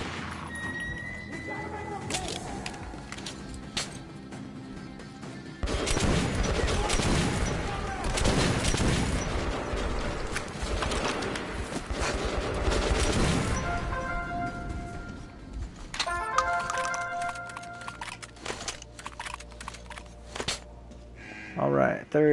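Gunfire rings out in the video game Metro Last Light Redux, bursts of shots and impacts filling the middle stretch, loud and dense, while someone talks over much of it with quieter gaps at the start and end.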